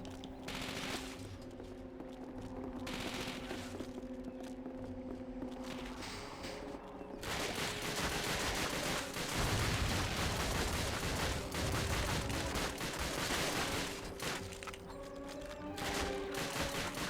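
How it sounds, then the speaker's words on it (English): Dense gunfire from the video game Call of Duty: Finest Hour, with bursts of automatic weapons and scattered shots building into a sustained, loud fusillade over a low droning game soundscape. "'Cause someone's shooting."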